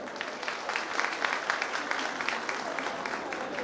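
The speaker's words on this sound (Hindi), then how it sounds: "ताली बजाएं" Steady applause from a studio audience at a Pakistani brand event for Eazicolor, a dense even patter of many hands holding at moderate volume for the whole stretch.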